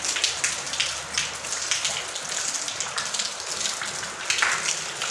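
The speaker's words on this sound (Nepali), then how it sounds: "यसरी पानी पर्छ हेर्नु।" Steady rain falls outdoors during Dashain, a dense, even hiss of drops on surfaces that continues throughout without voices.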